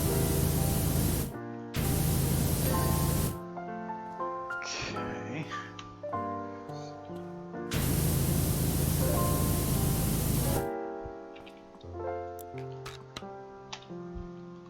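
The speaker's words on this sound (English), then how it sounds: "What I do know is I have a power washer." A power washer in the video game PowerWash Simulator hisses in long bursts that start and stop, with game music and a voice talking over the quieter gaps.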